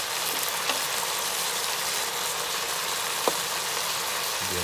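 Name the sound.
chicken frying and being stirred in a pan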